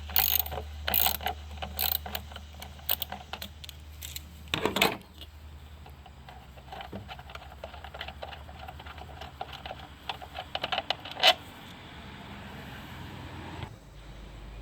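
A ratchet clicks in quick bursts while loosening a 10mm bolt on a 2014-2016 Kia Soul during transmission replacement, with close, sharp pawl clicks, short pauses and a clunk of metal between runs of turning.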